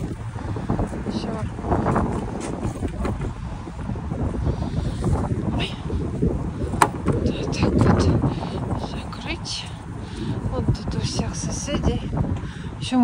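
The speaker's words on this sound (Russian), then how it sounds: "Ой, какой ветер, все улетает." Strong wind blows outdoors around a garden plot, buffeting the microphone with a steady low roar and gusts, while someone talks over it.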